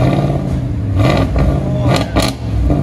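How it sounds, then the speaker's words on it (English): A 2020 RAM 2500 with a 6.4L HEMI V8 and Dynomax Race Bullet exhaust revving up nearby, loud rumbling swells with a couple of sharp throttle blips, a voice briefly audible. "We'll let you guys hear it in a second. Much better. Give it gas."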